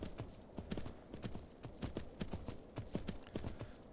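Horse hooves clip-clopping in the video game Myth of Empires, a steady trotting rhythm of sharp knocks, close and moderately loud; no clear whinny stands out.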